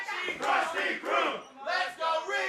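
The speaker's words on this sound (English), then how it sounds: "this crowd getting involved here" A wrestling crowd at a live show in Bell Gardens, California, roars and shouts together in loud rising and falling waves, with no commentary over it.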